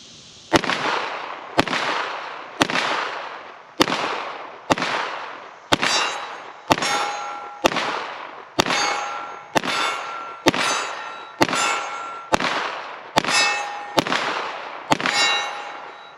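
A Canik TTI Combat pistol firing 115 grain rounds from a standard magazine, loud sharp shots in a steady rhythm of about fifteen evenly spaced reports, each followed by a short ringing tail.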